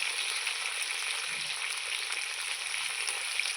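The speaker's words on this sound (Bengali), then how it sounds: "ভালো করে লাল লাল করে ভেজে নেব একটু লবণ দিয়ে দেবো একটু হলুদও দেব" Fish fries in hot oil with salt and turmeric, cooked together with potatoes and arum for a fish curry. A steady, soft, bright sizzle runs throughout with no talking.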